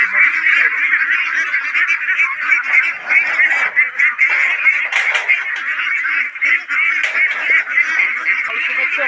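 Local ducks quacking and honking close by, a steady, loud chorus of overlapping nasal calls running without pause and without any talking.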